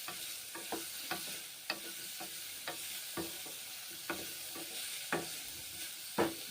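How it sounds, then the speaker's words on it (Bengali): Bitter gourd (karela) pieces fry in oil in a pan, giving a steady sizzle broken by repeated clinks and scrapes of a spatula stirring, close and moderately loud, with no talking. "তারপরে করলাগুলোকে ভেজে নিচ্ছি"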